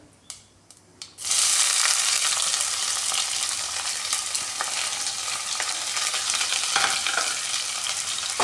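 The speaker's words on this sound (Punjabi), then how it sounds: "ਹੁਣ ਇਹਦੇ 'ਚ ਪਾਵਾਂਗੇ ਕਟਿਆ ਲਸਣ ਅਦਰਕ" Chopped garlic and ginger hit hot oil with whole red chili, fennel and cumin, bursting into a loud, steady sizzle with stirring scrapes after a few soft knocks.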